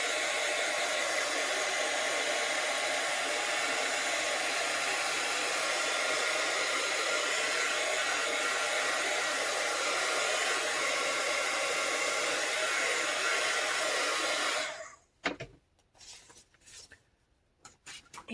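A hair dryer blows steadily and loudly over coffee-stained paper pages for about fifteen seconds, then cuts off abruptly, leaving faint handling noises.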